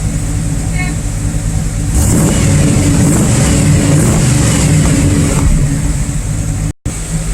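A 1994 Caprice Classic LS with an LT4 V8, heard from behind the car, runs at a loud, close rumble that swells into a rev, holds, then drops back before cutting off abruptly.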